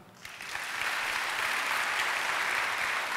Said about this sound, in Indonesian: Yang percaya sehat tepuk tangan